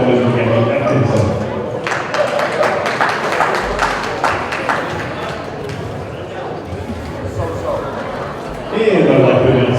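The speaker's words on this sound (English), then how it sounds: "Give them a round of applause" A crowd at a heifer cattle show claps for young exhibitors in a burst of sharp, close applause that rises and then fades. A voice on a loudspeaker talks over and around it.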